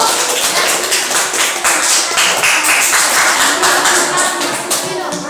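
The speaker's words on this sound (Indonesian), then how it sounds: "tepuk tangan untuk kelompok 3" Loud, dense clapping for a student group after a class presentation, close by and continuous, with overlapping claps and some voices mixed in.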